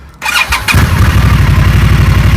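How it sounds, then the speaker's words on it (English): An Indian motorcycle's engine cranks briefly and catches, then settles into a loud, steady, throbbing idle close by. "And I get on the bike. Turn on the ignition."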